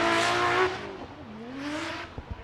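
A Toyota 86 drift car on Achilles tires at a Formula Drift qualifying event in Atlanta, its engine note loud and rising, then falling away as the handbrake is yanked, with brief tire chirps at the end.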